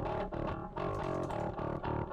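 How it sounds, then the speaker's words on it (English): Hard rock full-band mix in Reaper driven through a free clipper plugin, giving a dense, saturated, continuously loud wall of distorted guitars and drums with brief dips between phrases and no talking. "limiter that is actually doing the clipping. This clip thing is amazing. It's like a distortion clipper something."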